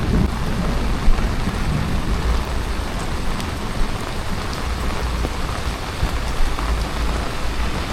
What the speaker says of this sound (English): Rainy day here in Montego Bay.